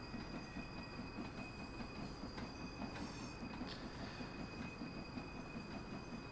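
Freight train rolling downhill in Train Sim World 2, a steady, dense rumble of wheels on rails with squealing and occasional metallic clicks, continuous and fairly quiet with no voices.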